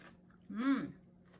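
Close, brief crunchy bite into air-fried crispy fried chicken, a single short chew in an otherwise quiet moment.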